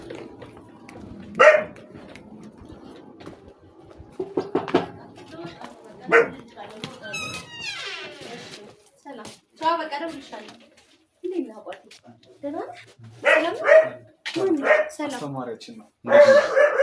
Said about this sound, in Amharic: ካሜራማን ውሻ አለ እንግዲህ